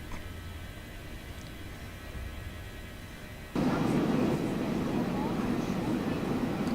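Landing gear retracting on an airliner just after takeoff in the X-Plane 11 flight simulator game, a sudden loud broadband rumble that jumps in partway through over the steady engine drone and then holds.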